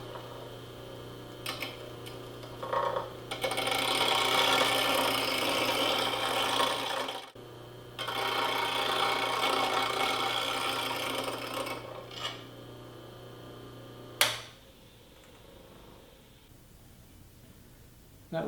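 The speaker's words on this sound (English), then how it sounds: "Then you turn on the grinder and go about sharpening." A bench grinder hums steadily while a lathe turning tool is sharpened against the wheel in a Oneway Wolverine grinding jig, giving two long harsh rasping stretches, then the grind stops and the motor hum fades.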